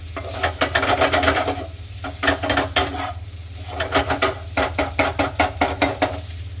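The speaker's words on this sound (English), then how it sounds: "Throw them in, start stirring." Rice and onions are stir-fried in a wok for Hong Kong fried rice, with rapid rhythmic scraping and tossing strokes over a constant loud sizzle, close up and without voices.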